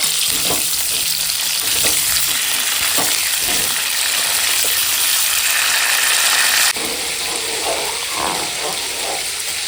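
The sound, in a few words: cauliflower frying in oil in a wok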